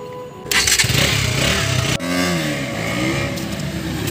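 A motorcycle engine catches abruptly and settles into a loud, close idle, briefly cutting out and restarting, then running steadily with a rough throbbing rumble.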